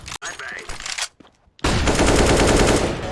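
Rapid automatic gunfire from an online shooter game bursts in loud and dense after a short, quieter stretch of game sounds and a brief near-silence, sustaining a continuous rattling volley to the end.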